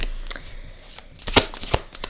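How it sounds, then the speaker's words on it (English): A large deck of Hype Studio cards is shuffled by hand, with a few crisp riffling bursts and taps standing out close over a quiet room. "There's so many of them as well that it's quite hard to shuffle them."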